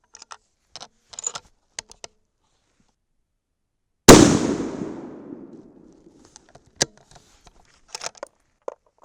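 A .308 Winchester rifle fires one light load of 110-grain Hornady Z-Max over Reloder 7. There is a single sharp, loud crack midway with a long rolling decay, framed by faint scattered clicks and handling noises before and after.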